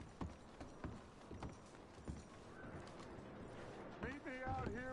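Horses' hooves clip-clop in a PS4 video game as a character packs supplies onto the horses, a quiet steady walking rhythm under game dialogue and background ambience, with a brief musical swell at the end.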